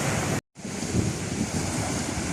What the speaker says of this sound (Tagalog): maganda po yung dagat po natin ngayon mga kaidol